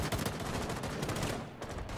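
Rapid automatic gunfire tearing through a wall in Rainbow Six Siege: a dense, loud, continuous burst of shots with no pause across the whole stretch.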